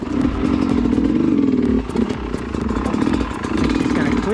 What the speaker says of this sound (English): He's got a Kickstarter mechanism busted, but he could clutch start it.